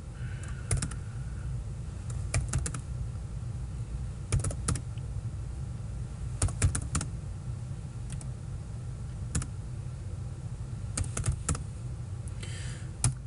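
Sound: typing a command on a computer keyboard

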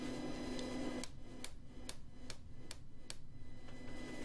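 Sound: hammering a round punch into forged steel

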